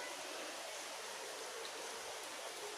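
Water poured and filtered through a white cotton cloth and a tea strainer, a steady, faint trickling splash with no break, no voices.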